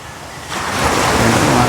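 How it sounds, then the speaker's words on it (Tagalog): Ocean surf building as the wind picks up, a broad rushing wash that swells and grows louder partway through, with wind buffeting the microphone. "lumalakas na yung alon"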